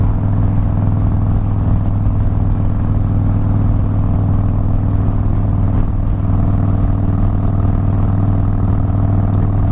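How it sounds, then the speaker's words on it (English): A Harley-Davidson Fat Boy S motorcycle engine rumbles continuously, a loud, steady low-pitched throb held close with no talking. "The sound of the engine, that rumble, wind's blowing at you."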